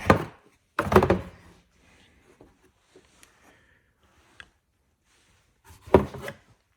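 A plastic upper engine cover pried off a GM 2.4 engine makes a few loud, close rattling thunks and scrapes in bursts at the start and again near the end, with quiet gaps of small clicks between.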